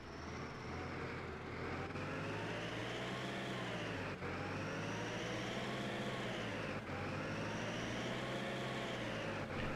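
Fendt Farmer 310 tractor from a farming game mod drives along under a steady, loud engine drone with a rising and falling pitch as the revs shift, heard alone without talk.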